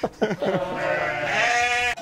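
Ewes bleat in a mountain-pasture sheepfold, several short overlapping calls at first, then one long, wavering bleat held almost to the end, close and fairly loud with no talk.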